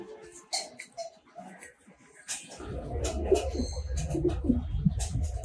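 Soft coos of Giribaz and racing homer pigeons murmur close by, joined by a low rumbling flutter and scattered small rustles and clicks partway through.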